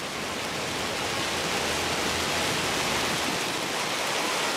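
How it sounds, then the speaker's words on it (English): Half-inch hailstones pelt down steadily and loudly in a dense, continuous broadband roar with no pauses, close to the listener and with no voices. "I got some larger hail starting to fall."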